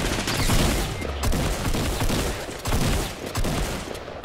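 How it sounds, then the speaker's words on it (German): Rapid volleys of gunfire in a Fortnite match ring out loud and close, with dense bursts of shots repeating across the moment. "Da schießt jemand. Ich weiß nicht, ob auf uns."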